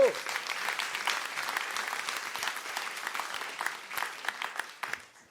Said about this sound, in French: On peut encore applaudir très très fort.